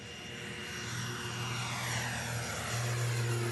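Small propeller airplane in flight on a one-hour hop between islands of Wallis and Futuna, a steady, loud cabin drone with a low engine hum that swells slightly, continuous throughout with no talking.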